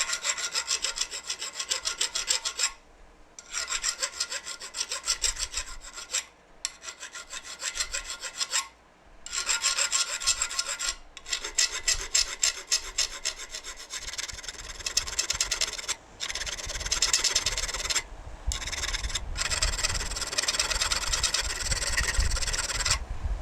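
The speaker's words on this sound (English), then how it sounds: "do some more filing" Steady rasping of a hand file cutting dragon-scale patterns into the spine of a steel knife, long rhythmic strokes repeating loudly and close up with a few brief pauses between runs.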